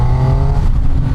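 A Triumph Tiger 800 three-cylinder motorcycle engine revs hard through its exhaust, a loud, close, continuous roar over about a second with no voices.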